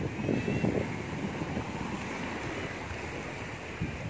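Ocean surf at Laut Agung, Dipasena, rolling in continuously with broad washing noise, wind buffeting the microphone, and a louder wave surge near the start.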